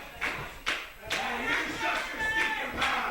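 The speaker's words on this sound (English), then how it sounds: "The crowd cheering for Jason Kincaid." A wrestling crowd cheers for Jason Kincaid during his 2005 bout with the Cuban Assassin, with a few sharp bursts of clapping and shouts rising over a steady arena roar.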